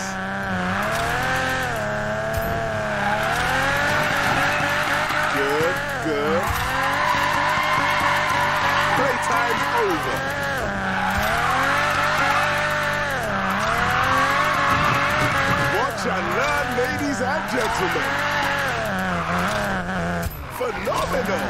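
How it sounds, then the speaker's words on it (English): Car drifting in the Need for Speed Payback racing game, a continuous loud tire squeal wavering in pitch over a steady engine roar throughout, with a voice talking now and then. "This is what drifting is about."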